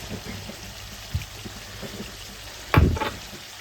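A low sizzle of ginger-garlic paste frying in a karahi carries on throughout, with a soft knock and then a louder clattering stir near the end; no one talks.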